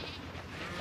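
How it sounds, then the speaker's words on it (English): A pet sheep on a Dartmoor farm bleats in a short, steady, wavering call that fills the whole moment, close and fairly loud with no talk over it. "Tina, my little pet sheep, and she's gone, mate."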